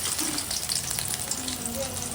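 Chopped onion sizzling and frying in a hot pan for Manchurian gravy, a steady close crackle that runs throughout without pause.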